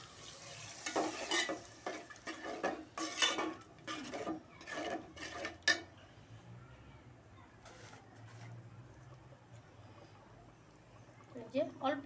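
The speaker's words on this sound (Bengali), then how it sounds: "এখন আমি মশলাটা কষায় নিব।" A spice paste of chili and coriander powder with a little water is stirred and fried in a pan, heard as a series of close scraping, sizzling strokes that fade into a quieter stretch with a low background hum.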